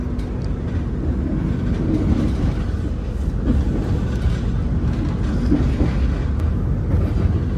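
KA Parahyangan passenger train running along the Indonesian main line: a steady, loud, close rumble of wheels and carriage with faint rail clatter, continuous throughout and with no talk.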